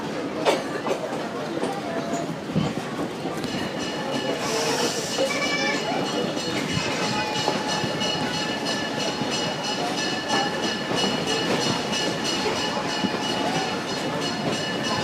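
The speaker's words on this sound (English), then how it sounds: "Here we'll be performing a runaround movement where we stop the train on the main line track." A Down East scenic railroad train rolls along the main line track, with steady wheel rumble, rhythmic clickety-clack, and occasional metallic squeals from the wheels. It continues close and sustained throughout while a voice talks over it.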